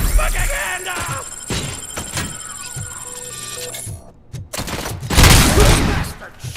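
Gunfire in the Robocop Rogue City video game: several sharp bursts of shots go off in uneven clusters, with a louder, heavier volley near the end, mixed with shouting voices and game sound.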